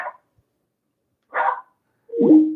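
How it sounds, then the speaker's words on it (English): A dog gives three short barks, close by and with pauses of about a second between them, and no other sound in between. "The dog started barking"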